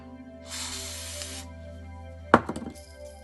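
A burst of compressed air hisses steadily for about a second while cleaning a steering rack bearing, followed by a sharp metallic knock and a few quick rattling taps in a quiet workshop.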